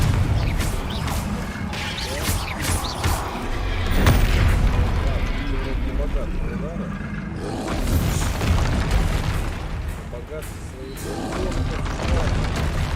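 Repeated spell blasts and booming impacts from combat in the video game Hogwarts Legacy, including Confringo fire blasts, crashing in quick irregular bursts at close range over continuous game sound, with a voice calling out spell names.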